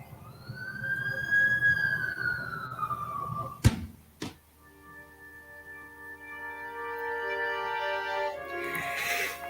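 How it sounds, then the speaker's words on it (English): Ambulance siren in the Amazing Spider-Man video game, a wailing, rising and falling tone that is cut by two sharp knocks, then returns as a steadier, layered siren. "That's the ambulance I called."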